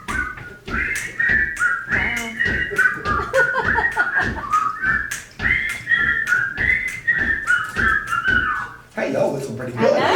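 A crowd of people whistling a TV show theme together, a loud sustained melody with scattered laughter and voices mixed in, trailing off into chatter near the end.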